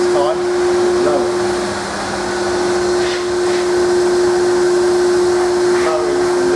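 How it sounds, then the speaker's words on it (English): A skyVac Atom cleaning machine running in blowing mode to lift leaves from a gutter gives a steady, loud hiss and whine with a constant tonal hum throughout. "put the machine on again. Not sucking this time, blowing."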